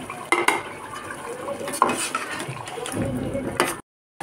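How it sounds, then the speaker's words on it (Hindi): Chicken liver pieces tipped into a handi of simmering masala with oil and ghee risen to the top, followed by close clattering, scraping and stirring against the pot in a steady, busy stretch before a brief silence. "अब हम डाल देते हैं कलेजी।"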